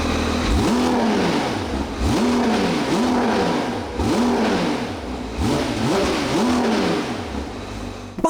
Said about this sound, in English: You got these two massive center exhausts back here, clearly a very special car, and it sounds it too.